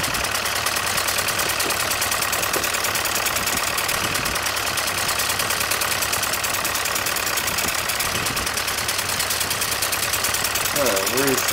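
A 1958-era farm tractor with a mower attached runs steadily, a loud close rhythmic engine chug with a knocking pulse throughout, and a voice speaks over it near the end.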